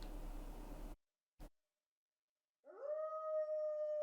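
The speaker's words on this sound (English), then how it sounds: "The dog is still howling somewhere outside the window" A dog howls somewhere outside a window in the video game Tsukihime. A hiss of static-like noise cuts to silence, then a long, steady, drawn-out howl rises and holds.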